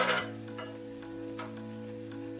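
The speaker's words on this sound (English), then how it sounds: "I like using a spoon. It's quite noisy, isn't it?" A spoon stirring Weetabix porridge in a pan, giving a few soft scraping taps at irregular intervals, faint and close, over a steady low hum with no talk.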